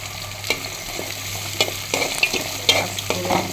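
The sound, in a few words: fish heads frying in a pan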